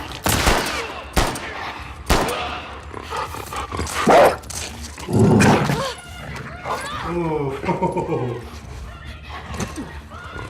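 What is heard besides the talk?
dogs barking in The Last of Us Part II, video game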